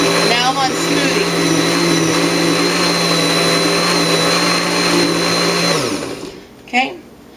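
Blender running on its smoothie setting, a loud, steady whirring motor whine with a strong hum that holds for several seconds, then winds down and stops, followed by a brief clunk.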